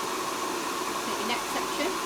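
A hair dryer blows steadily while styling hair, a loud continuous whoosh filling the whole stretch with slight fluctuations as it moves, and faint speech underneath.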